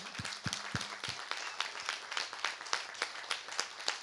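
Audience applause in a hall, many hands clapping at a steady pace with sharp individual claps, moderately loud and continuous, no talking.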